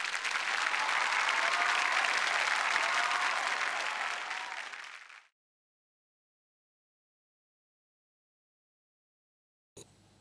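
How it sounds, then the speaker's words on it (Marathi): Studio audience at a Marathi comedy show gives loud, dense applause for about five seconds, tapering off into silence, followed by a brief faint sound near the end. "जोरदार टाळ्या दोघांसाठी"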